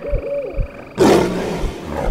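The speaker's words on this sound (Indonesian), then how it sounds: "Bunyi deruman harimau itu semakin dekat." A tiger's deep roar erupts suddenly, loud and close, a rough rumbling growl that holds for over a second and then trails into a sustained low snarl, after a quieter stretch of faint whistling background tones.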